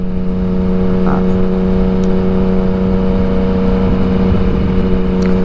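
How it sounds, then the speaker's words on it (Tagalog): Steady road traffic noise heard from inside a moving vehicle in the Philippines, passing through Susana Heights toward Alabang, with a continuous engine hum and tonal whir at a constant level and no talking. "So medyo mabilis yung daloy na ng traffic."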